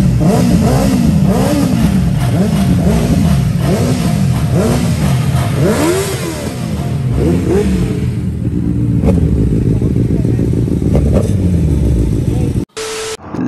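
Suzuki Hayabusa and Ducati V4S motorcycle engines rev on an expressway, heard as loud, continuous engine roar with repeated rising and falling throttle sweeps. The sound fades to a steadier drone before ending in a brief dropout.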